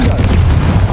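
A fiery Confringo blast spell detonates in Hogwarts Legacy, a single loud, deep rumbling boom that fills the whole moment with heavy low-end roar.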